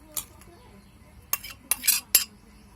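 A metal spoon presses chopped watermelon through a strainer, giving a few sharp scraping clinks and taps, scattered and fairly close, against a quiet background.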